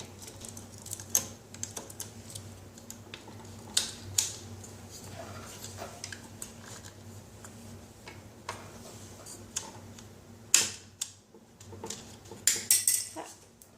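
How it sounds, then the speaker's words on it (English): A Swiss Army knife works a small screw out of a Singer Model 5528 sewing machine, giving faint scattered metallic ticks and clicks over a low steady hum, with a few sharper taps toward the end. "I'm going to have to remove this little screw right here"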